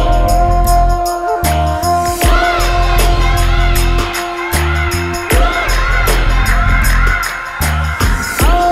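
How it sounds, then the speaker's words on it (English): A crowd cheers and whoops loudly over a droning musical background, with bursts of shouting rising and falling throughout and talk mixed in. "A cheer."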